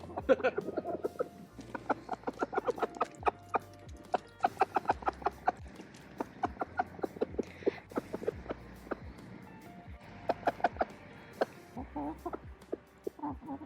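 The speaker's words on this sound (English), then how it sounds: "let's go check in on the chickens" Several chickens cluck and chatter nearby in quick, uneven bursts, with soft footsteps and light knocks mixed in, and faint voices in the background.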